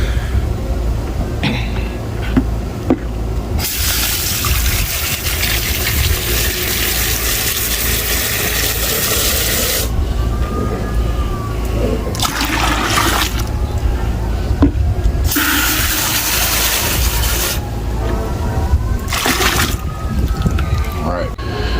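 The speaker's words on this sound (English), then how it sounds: "And as always, spray out your containers." A hose sprays water in loud, close bursts, rinsing out product containers of iron, humic acid, kelp and molasses into a bucket, with several stretches of steady hissing separated by pauses and some talk between.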